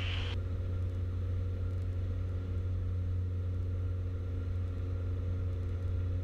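Inside the cockpit of a Piper Arrow climbing after takeoff, the engine drones as a loud, steady low rumble while the landing gear retracts, with no distinct mechanical clunk standing out.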